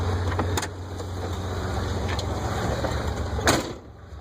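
A 1986 BMW 325e with a six-cylinder engine and five-speed gearbox idles close by with a steady low rumble, a couple of brief knocks heard over it and the sound easing slightly at the end.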